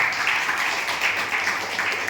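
Audience applause at a gathering honoring a guest, a steady dense wash of clapping that holds evenly for the whole stretch without any voices over it.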